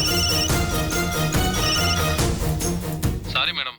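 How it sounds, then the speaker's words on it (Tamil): A phone ringtone plays in a Tamil TV drama scene, a loud continuous melodic ring that runs for several seconds before stopping abruptly. "அட வர்ஷாக்கு தான் ஃபோன் வந்து குணக்கல"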